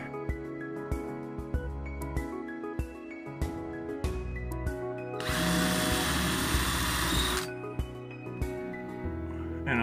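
Power drill with a sharp bit boring out fasteners in a step van ceiling under upward pressure, whirring in short bursts with a longer, louder grinding run in the middle.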